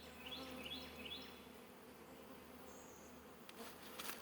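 Honey bees bearding and storing nectar around a hive make a steady, close, droning buzz, with a few thin bird chirps early on and some brief rustling near the end.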